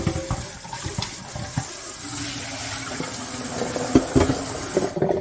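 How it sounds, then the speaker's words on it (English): Running water splashes over potatoes in a sink as starch is rinsed off, a close steady gush with knocks and clatter of the potatoes and pan. "Rinse that all out."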